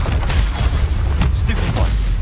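Deep, booming blasts from the Confringo fire spell in Hogwarts Legacy, a dense low rumble of explosions sustained throughout with crackling bursts layered on top, loud and close.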